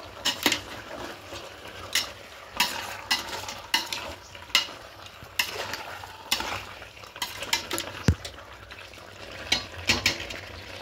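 Pepper chicken stirred with cumin powder in a pan: repeated close scraping strokes of a spoon against the metal, irregular and fairly quiet, over a low continuous sizzle, with no talking.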